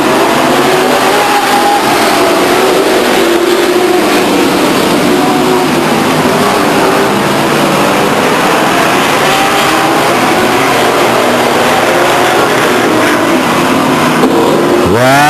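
Modified race cars roaring around Stockton 99 Speedway at the start of a race, a dense continuous wall of engine noise with revving and passing cars, loud and sustained throughout without pause.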